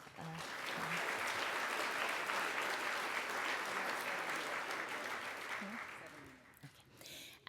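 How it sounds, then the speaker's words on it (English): A conference audience applauds in a steady, dense wash of clapping that holds for several seconds, faint and distant, then tapers off as a voice begins near the end. "Another round of applause for"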